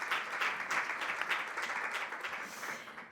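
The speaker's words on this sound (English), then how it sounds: "A big applause for Corinna." An audience at an academic conference on sustainable transitions applauds a speaker, a fairly quiet, continuous patter of clapping hands that thins out slightly toward the end.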